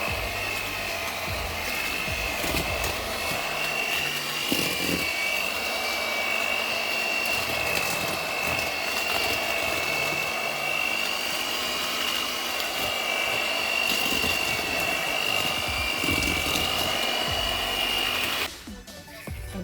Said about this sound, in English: So we're going in now with the hand mixer.